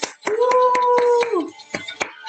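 A church congregation claps in a steady, brisk rhythm, sharp hand slaps ringing close over a sustained sung note during worship.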